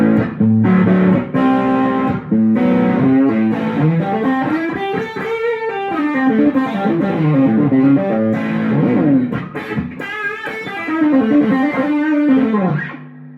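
Heavily distorted electric guitar played through a high-gain drive pedal, loud sustained chords and bends with thick saturated gain, continuous and close, no voices.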